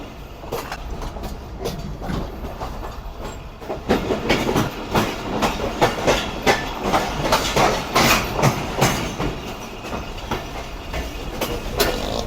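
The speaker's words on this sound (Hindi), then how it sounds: "तो ये ट्रेन हमारी एंटर हो रही है अयूब ब्रिज पे।" The Sukkur Express passenger train rolling onto the Ayub Bridge, heard from on board: a loud, continuous rumble with rhythmic clickety-clack wheel beats that grow heavier and more pronounced partway through.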